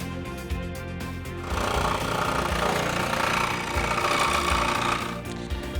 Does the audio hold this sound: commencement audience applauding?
no